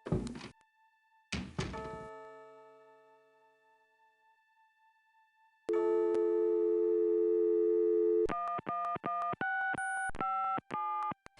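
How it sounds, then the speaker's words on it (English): A telephone dial tone in the adventure game Gabriel Knight: Sins of the Fathers, a steady held electronic tone lasting a few seconds after some thumps, followed by rapid bursts of button-like tones. "I think it's supposed to be phone."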